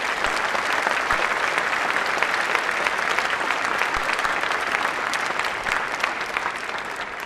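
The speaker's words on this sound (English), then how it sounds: "I invite the audience to give her a good round of applause" An audience claps in a sustained round of applause, a dense even patter of many hands that holds steady and fades slightly toward the end.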